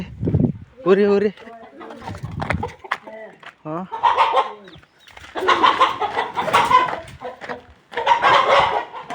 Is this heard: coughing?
no